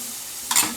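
Boiled lentils drop into hot oil and masala in a pan, setting off a sudden loud sizzling burst over a low steady frying hiss, close up, with no talk.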